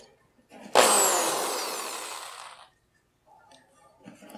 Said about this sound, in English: First, I'm going to go ahead and drill my hole.